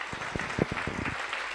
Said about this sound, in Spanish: Dé ese fuerte aplauso al Señor en esta mañana